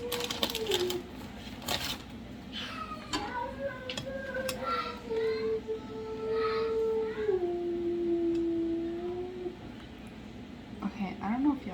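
A pet cat meows in a long, drawn-out call that rises and falls, following a few shorter meows, heard close in a home kitchen over faint background noise.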